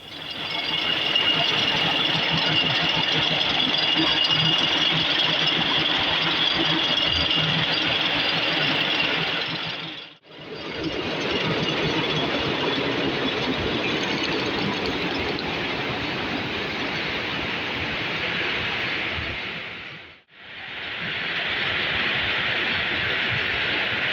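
Jute mill machinery running in a factory, a loud dense continuous mechanical roar with rattling texture that cuts out twice briefly before resuming.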